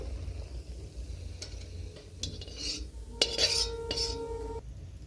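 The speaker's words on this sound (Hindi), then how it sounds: "जो हमने मेथी को भिगो लिया था इसमें हम डाल लेंगे और इसे हम अच्छे से चला लेंगे" A metal spoon scrapes and clinks against a pan as soaked fenugreek is stirred in for fenugreek and gum laddus, a few close, quiet strokes over a low background hum.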